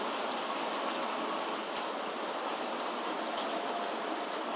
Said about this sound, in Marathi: बाहेर पाऊस पडतच आहे जोरामध्ये